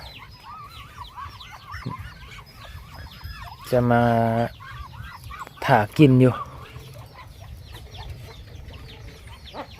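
Chickens cluck around a rice field hut in the evening, giving two loud, close bursts of squawking among softer scattered clucks. Someone speaks in between.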